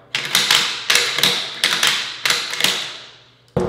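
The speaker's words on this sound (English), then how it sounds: "So with the Ruger Precision, you get a 60 degree bolt throw." A Ruger Precision Rifle bolt is worked through its 60-degree throw several times, giving a run of sharp metallic clacks and slides, loud and close, with no voice.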